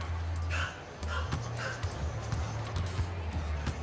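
A dog barks several times in short sharp bursts, near but not loud, over a low steady electronic hum and the sounds of a basketball video game, while a voice speaks briefly.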